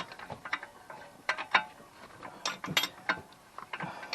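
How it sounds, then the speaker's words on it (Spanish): A wrench ratchets as a bolt on the suspension control arm of an Opel Frontera 2.2 DTI is loosened, with close bursts of rapid clicking and metallic clacks, irregular and uneven, with no talk. "Escoger la llave y ir aflojando"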